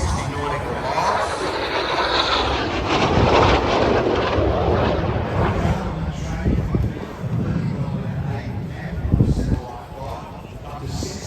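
Hawk 127 lead-in fighter jet with a 6,000-pound Rolls-Royce turbofan engine flying past at the RAAF Richmond airshow, a loud sustained roar that swells and fades under an announcer's talk.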